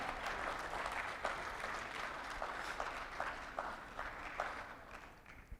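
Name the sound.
audience applause at a conference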